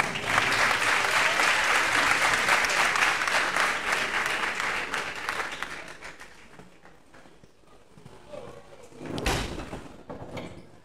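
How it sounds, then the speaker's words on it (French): Audience applause at a FESTIALIB festival evening, loud and dense for several seconds, then fading to scattered claps, with a brief knock or thud near the end. "sous vos applaudissements"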